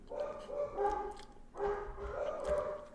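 A dog barks and yips in two short bursts, fairly close and clear over a low indoor background.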